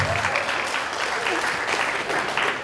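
Audience at a university lecture on field experiments claps and reacts, a dense, steady wash of applause mixed with crowd murmur at moderate loudness.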